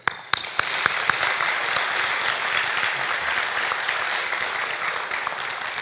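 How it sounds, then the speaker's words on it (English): A graduation ceremony audience applauds parents and family, a sustained roomful of clapping that starts with a few sharp individual claps and then stays loud and even. "let's give a generous round of applause to our parents and family"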